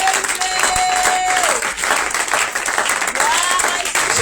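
A church congregation at a Passover service breaks into loud applause and cheers, a dense sustained roar of clapping with a voice speaking over it.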